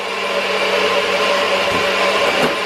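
A blender whirring through protein pancake batter, a steady, loud, close motor drone held for a few seconds without a break.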